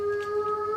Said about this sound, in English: That is a wolf.